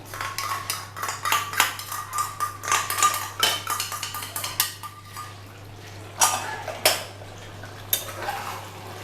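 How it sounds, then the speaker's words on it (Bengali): Poppy seed paste and nut paste being mixed in a metal pan in a kitchen, a rhythmic run of close spoon scrapes and clinks against the pan, with short pauses and a fainter patch near the end. "এই দুটোকে আমি ভালো করে মিক্স করে দিচ্ছি"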